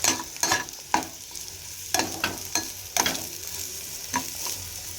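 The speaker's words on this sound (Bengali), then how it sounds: "এখানে আলু পেঁয়াজ ভাজা হচ্ছে" Sliced potatoes and onions fry in a pan on a gas stove, a constant sizzle broken by sharp rhythmic stirring scrapes and clacks every second or so, close and clear with no talk.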